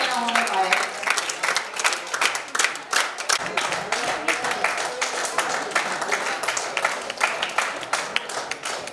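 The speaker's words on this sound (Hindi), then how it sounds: "तालियां बढ़ती रहे, तालियों में कोई कमी न होने पाए।" Audience applause at a Louis Braille Jayanti ceremony, steady crowd clapping sustained throughout, with a voice speaking over it.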